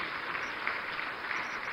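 Brief, fairly faint applause from a ceremony audience in a large hall, an even wash of clapping with no clear peaks.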